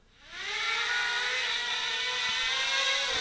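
A QFO Labs Quad Fighter quadcopter flies indoors, its motors spinning up into a close, steady high-pitched whir that rises in pitch and then holds with slight wavering.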